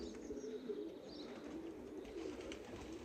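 A racing pigeon at a breeder's loft coos softly and repeatedly, low rolling calls heard close but quiet over faint background noise.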